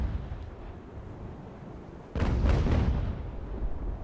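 Cannon fire from sailing warships in Ultimate Admiral: Age of Sail, a low rumbling battle backdrop that suddenly erupts into a loud broadside of several heavy booms rolling into each other, then a sustained thunderous rumble, no voices.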